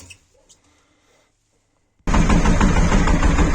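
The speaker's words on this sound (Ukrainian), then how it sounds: "Так, зараз попробую, може з декомпресора заведеться." The engine of a Shifeng 244 tractor is cranked with the decompressor, trying to start. After a couple of seconds of near silence, a sudden loud, dense, close mechanical churning bursts in and runs steadily to the end.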